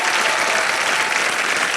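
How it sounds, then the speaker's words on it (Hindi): Studio audience on a Wheel of Fortune game show claps loudly for a band, a thick, continuous wall of applause close up and even throughout. "जोरदार तालियां उनके लिए"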